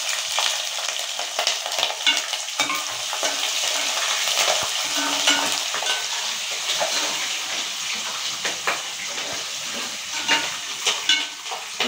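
Green chili and ginger pieces frying in a pan, a dense, steady sizzle with occasional pops and a few stirring scrapes, close and continuous with no speech.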